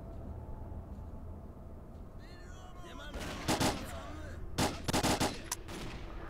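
Rifle gunfire from the video game S.T.A.L.K.E.R. Clear Sky comes in two short, fairly faint bursts of rapid shots over a low ambient game background, with no speech.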